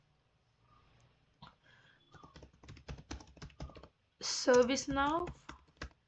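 Keys on a computer keyboard are tapped in quick, uneven bursts of close clicks, quiet at first, with a voice speaking briefly over the typing near the end.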